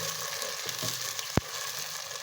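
Tomatoes and green chilies fry in a pan, giving a steady close sizzle with one sharp clack of a utensil partway through.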